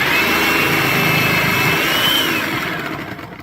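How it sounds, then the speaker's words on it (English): Food processor grating potatoes, a loud continuous motor whir with a faintly shifting pitch that fades out toward the end. "the food processor works quite fast"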